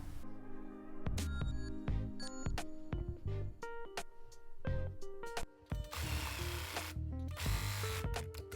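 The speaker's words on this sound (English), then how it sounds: "I'm going to sew them on the front side, on the corners, right where the facing falls down." Sewing machine stitching straps onto the front corners of a slip dress, a loud mechanical whirring in repeated bursts with short pauses and clicks between runs, close up and without talk.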